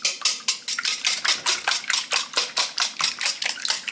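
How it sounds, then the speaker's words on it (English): Eggs and milk being whisked in a bowl for scrambled eggs, a quick steady run of bright metallic clicks against the bowl, about four strokes a second, close and fairly loud with no talking. "I'm going to whisk that up a little bit here."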